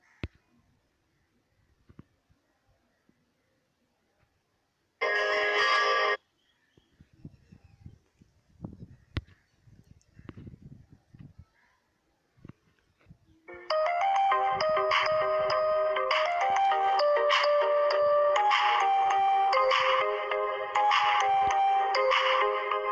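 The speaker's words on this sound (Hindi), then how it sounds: "आप कोई भी रिंगटोन डाउनलोड कर सकते हैं" A mobile phone ringtone plays loud and continuous through the second half, after a short melodic burst near the start and some soft clicking between them, with no talking.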